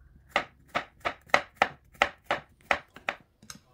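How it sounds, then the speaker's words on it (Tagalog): A knife thinly slicing bitter gourd (ampalaya) on a board, about ten crisp, evenly spaced cuts at a steady rhythm, close and quiet, no voices. "At pagkatapos ay hiwain lang natin ng manipis."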